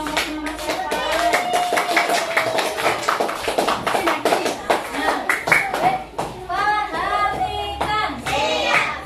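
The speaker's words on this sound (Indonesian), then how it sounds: "Tepuk tangan untuk kelompoknya Mas Evan." A class group claps hands together in a sustained burst of many overlapping claps in a classroom, with children's voices and a teacher speaking over it.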